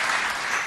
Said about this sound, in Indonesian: Boleh tepuk tanganmu buat Tuhan Yesus